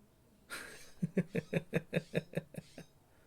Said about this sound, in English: Wait for the bird to finish its mating call.